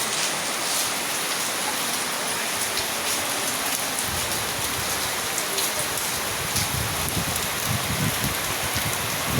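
Heavy rain pours steadily at a Philippine polling place on election day, a dense continuous hiss with drops drumming on nearby surfaces throughout, no voices.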